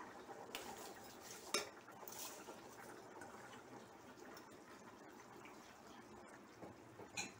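Rice being stirred into mutton biryani in a pot, soft scraping and occasional metallic clinks of a spoon against the pot, faint and close with a wet, shuffling texture.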